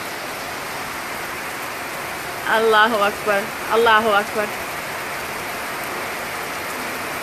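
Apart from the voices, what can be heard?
heavy rain falling in Hargeysa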